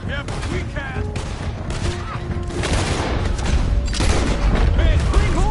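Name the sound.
gunfire in the video game Red Dead Redemption 2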